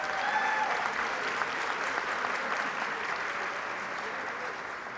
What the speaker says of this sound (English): So please, let's give them a round of applause.